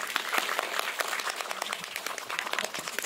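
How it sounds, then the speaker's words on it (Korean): An audience claps to welcome a film director and actors onto the stage at an indie film talk event, steady moderately quiet applause throughout with no talk. "한번 세 분 박수로 환영해볼게요"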